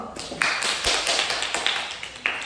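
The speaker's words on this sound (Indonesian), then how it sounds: "Kalau kakak, tepuk tangan dulu" A small group of children clapping hands in a classroom, a few uneven claps and taps spread over a couple of seconds at moderate distance, with faint voices in the background.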